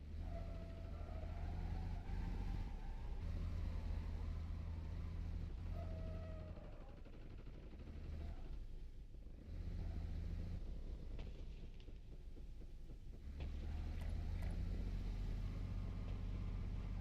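A vehicle driving in the Call of Duty Warzone video game, steady engine drone with gear shifts and revving rising and falling, fairly quiet, with occasional speech over it.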